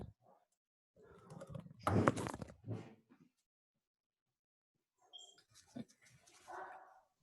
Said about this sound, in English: dogs really do be barking though